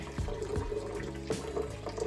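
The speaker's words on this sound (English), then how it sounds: "Start by adding in 4 cups of warm water." Warm water pours into a container for homemade coconut milk, a steady close splashing stream with a few brief surges, heard on its own without talk.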